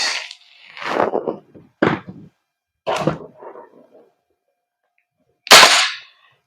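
Several sharp shots from a VFC Knights Armament SR16 E3 MOD2 carbine airsoft gas blowback rifle, with gas hiss, pop out in an uneven sequence, close and loud, separated by short gaps of quiet.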